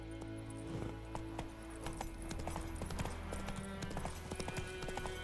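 Roach, a horse in The Witcher 3: Wild Hunt, gallops with quick, rhythmic hoofbeats clip-clopping over a low, sustained game music bed.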